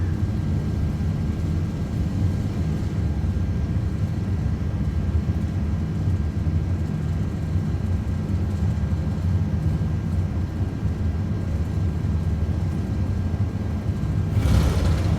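Airbus A330-200 engines roar at takeoff thrust in Flight Simulator 2024, a loud, even, low rumbling drone that holds steady throughout, with a brief brighter surge at the very end.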